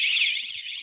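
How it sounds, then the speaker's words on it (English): A home burglar alarm triggered through a home automation setup blares a loud, continuous high-pitched wailing tone that wavers slightly in pitch, heard alone and close. "the burglar alarm's gone off"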